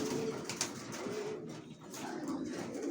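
Several racing pigeons coo softly and continuously in a low murmuring chorus inside a loft, with faint rustling in the background.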